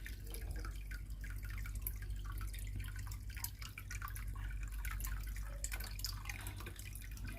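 Water from a Bosch Maxx7 washing machine with an E18 drain fault runs steadily into a basin, a continuous dripping, trickling splash close by with no talk over it.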